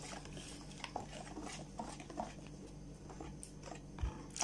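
An egg mixture for coconut flan being stirred gradually in a bowl, with soft irregular scraping and light clinks of utensil against the dish, close and fairly quiet.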